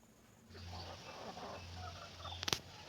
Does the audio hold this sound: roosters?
yes